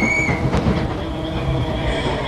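Tram running along rails and braking toward a platform in a video game, with a continuous loud rolling rumble of wheels on track, a high squeal early on and faint clicking underneath, and no voices.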